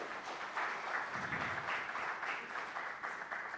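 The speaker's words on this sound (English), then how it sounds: "Big round of applause." A conference audience applauds steadily for a few seconds, a dense patter of many hands clapping at moderate distance.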